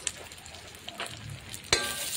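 Turmeric stirred into hot oil with garlic and coriander in a home kitchen pan gives a soft, steady sizzle. Scattered utensil scrapes run through it, with one sharper knock near the end.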